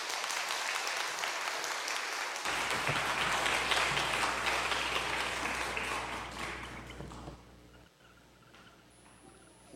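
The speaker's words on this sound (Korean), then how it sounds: "목사님 나오실 때 우리 박수로 환영하겠습니다." A church congregation at an evening revival service applauding to welcome the pastor, a dense, loud wash of clapping that holds steady for several seconds and then tapers off into quieter scattered claps and room murmur.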